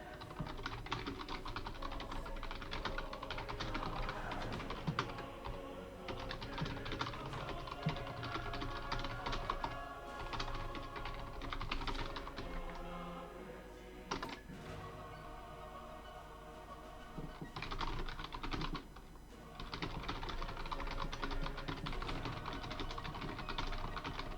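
Quiet, fast typing on a computer keyboard during a Civilization VI game, with dense runs of soft key clicks that pause briefly midway and then resume.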